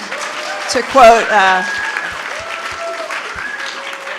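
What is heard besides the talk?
audience applause at a lecture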